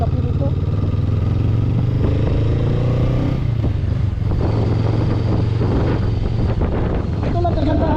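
A motorcycle roaring as it pulls away quickly on a road trip, its engine note rising and steady throughout with wind buffeting the microphone.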